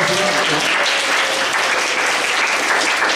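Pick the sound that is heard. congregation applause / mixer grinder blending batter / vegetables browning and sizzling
congregation applause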